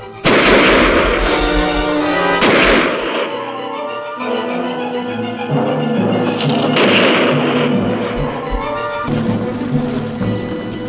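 Gunshots fired over a monster's head in a 1950s alien monster film, several heavy booming blasts at first, then ringing dramatic music carrying on after them.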